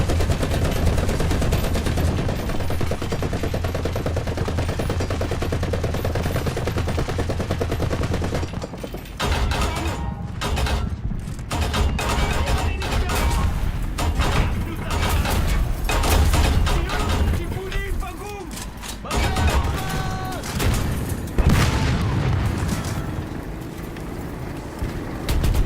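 Tank guns and machine guns fire during a War Thunder battle, with dense, loud, continuous bursts of gunfire and engine noise that build into a heavy barrage throughout.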